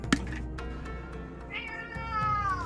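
A cat meows, a drawn-out, rising cry that starts midway through and carries to the end over faint background noise.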